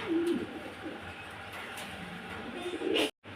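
Fancy pigeons coo close by, with a low throaty coo near the start and another near the end over a steady background hum.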